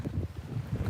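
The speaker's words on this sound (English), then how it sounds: "it's pretty windy over here" Gusty wind at a beach buffets the microphone in low rumbling bursts, loud and close, with no voices.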